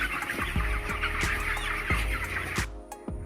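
Many chickens cluck and chatter continuously on a mixed farm where the birds are running about, with a series of dull thumps repeating every half second or so beneath the close, busy flock noise.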